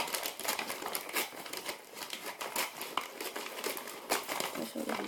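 Lush bath bombs, including a Sex Bomb, are unwrapped from their packaging with close, irregular crinkling and rustling of wrapping, sharp crackles scattered throughout, under occasional soft speech.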